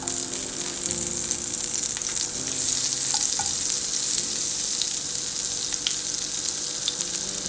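Oil and butter sizzle loudly and steadily in a pan, a dense continuous frying hiss with faint occasional crackles and no voices.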